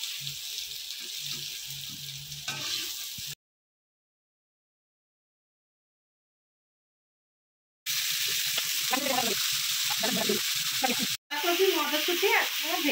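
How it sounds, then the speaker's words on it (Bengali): Green peas frying in a pan, a close sizzling hiss with stirring, cut off by a long stretch of silence before the frying resumes with scraping and a brief break near the end. "মটরশুঁটি একদম ভেজে নিচ্ছি।"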